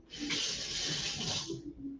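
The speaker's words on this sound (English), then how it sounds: "I'm going to rinse my spoon" A spoon rinsed under a running kitchen tap: a short burst of gushing water for about a second and a half, then quieter splashes as it stops.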